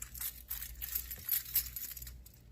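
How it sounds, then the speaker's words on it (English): A bunch of keys slid by hand into a sock for a homemade drum-dampening trick, giving soft, bright metallic jangling and clinking in short bursts, close up with no talking. "I like to put my hands in first and then grab the keys and slide them in."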